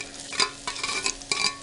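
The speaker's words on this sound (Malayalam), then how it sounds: "എണ്ണ ചൂടായിട്ടുണ്ട്. നമുക്ക് അരിഞ്ഞ് വെച്ചേക്കണം ഉള്ളി ചേർത്ത് കൊടുക്കാം." Chopped onions fry in hot coconut oil, a soft continuous sizzle broken by about three bursts of scraping and stirring, close and fairly quiet, with no voices.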